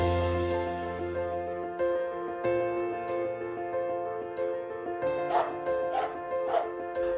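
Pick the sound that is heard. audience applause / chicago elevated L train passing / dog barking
dog barking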